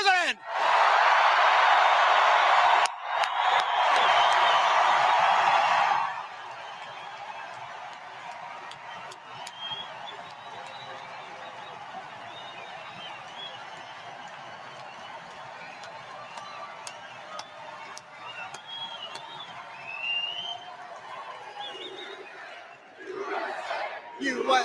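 Crowd at a Donald Trump rally in Montana erupts in loud, dense cheering and applause for the opening six seconds, then settles into a lower, steady crowd murmur with scattered shouts and a brief swell near the end.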